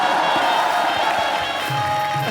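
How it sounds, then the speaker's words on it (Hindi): A studio audience at a Hindi comedy talk show applauds and cheers, a steady, dense wash of clapping and crowd noise that holds for a couple of seconds. "तालियां बजाना"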